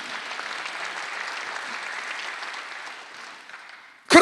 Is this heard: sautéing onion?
no